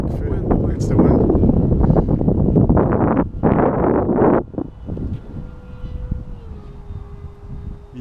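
Wind gusts buffet a microphone outdoors on a windy day, a heavy rumbling roar that comes and goes, with people talking over it and a faint steady tone in the background.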